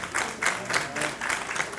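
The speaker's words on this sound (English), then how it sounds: "So give him a round of applause." Audience applause at a university alumni chapter's annual scholarship banquet, a steady room-filling patter of clapping in rolling waves, moderately loud and without talk.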